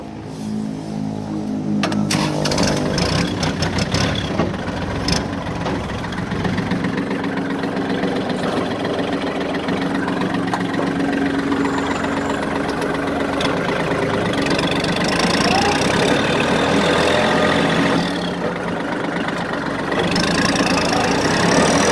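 A 2020 Kubota 32-horsepower tractor with a front blade idles close by with a steady, slightly knocking diesel rumble that holds throughout, with a faint rise in the middle.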